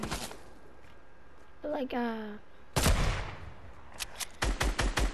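Fortnite gunfire from several weapons comes in sharp, close bursts: a volley at the start, a heavy crack near the middle, then a rapid string of shots at the end, with someone talking briefly partway through.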